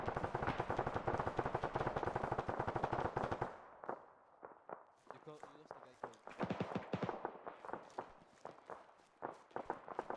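Rapid bursts of automatic gunfire in a military video game, dense and loud for the first few seconds, then sparser scattered shots and movement noises at a lower level.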